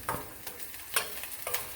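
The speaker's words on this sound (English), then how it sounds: "Saute for 3 minutes until it gets little pink." Finely chopped onions sauté in olive oil on a stove, a soft sizzle broken by three brisk stirring scrapes spaced about half a second apart.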